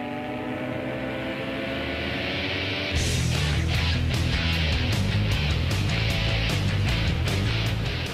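A steady engine drone runs throughout, then jumps louder and rougher around the three-second mark, with choppy, surging bursts as the boat gets under way.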